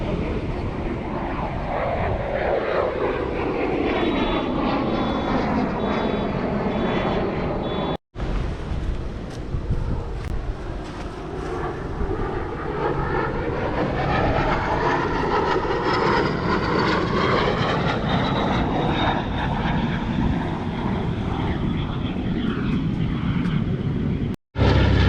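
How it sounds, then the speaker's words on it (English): Fixed-wing airplane engine roaring steadily overhead at an air show, a loud continuous drone with slowly shifting pitch that stays strong for the whole stretch, broken only by two brief dropouts. "One of the planes is flying now."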